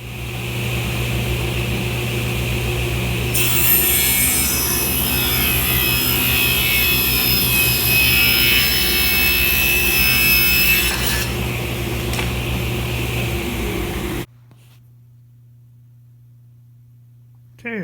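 Power saw milling wooden stock for a truck camper build runs loud and close for about ten seconds, with a steady motor hum underneath, then cuts off abruptly into near silence.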